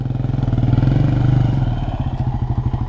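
A dirt bike engine revs hard and continuously, loud and close, with a rapid throbbing pulse that rises and settles without letting off.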